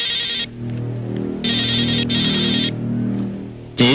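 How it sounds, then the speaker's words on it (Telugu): A telephone rings indoors with loud, steady electronic bursts in a repeating on-off pattern over a constant low hum, ending in a sudden louder tone. "ఫోన్ రింగ్ అవుతుంది, నేను వెళ్ళి చూసి వస్తాను."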